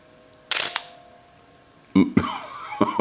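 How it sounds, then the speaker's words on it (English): A camera shutter fires up close, a sharp mechanical click with a brief rattle, then after a pause a second actuation followed by a few softer clicks. "so you can listen to the shutter"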